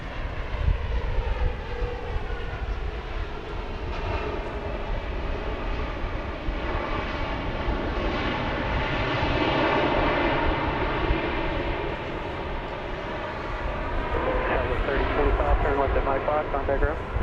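A Southwest Boeing 737 MAX 8 on flight 3025 from Orlando at Dallas Love Field, with a steady, loud jet engine roar that swells around the middle and holds for the whole stretch.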